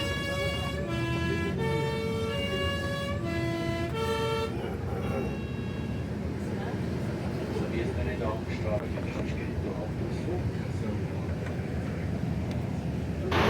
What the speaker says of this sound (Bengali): তো সেই জন্যেই এই হর্নগুলিকে বিশেষভাবে বানানো হয়।